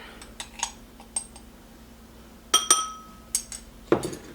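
Metal measuring spoons clink and tap against each other while half a teaspoon of cinnamon is measured for breakfast potatoes, a series of light, close, sharp chinks spread through the moment with quiet pauses between them.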